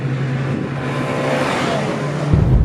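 A Honda Accord CL9 on its stock intake drives by outdoors with a steady engine note that swells briefly louder near the end as it passes.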